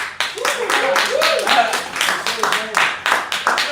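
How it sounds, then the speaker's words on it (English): Applause from a comedy open-mic crowd: dense, steady clapping that lasts the whole stretch, with a voice talking and calling out over it. "Give him a round of applause, y'all."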